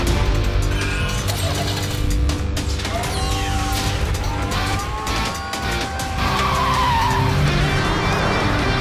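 Cartoon force cars from the animated series Miniforce dispatch with loud, sustained tire skids and screeching engine sweeps layered over busy mechanical noise, rising and falling throughout without any talk.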